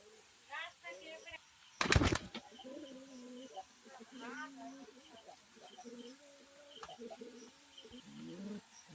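Soft, repeated cooing of pigeons close by in a breeding loft, with a few wing flaps and brief chatter in the background.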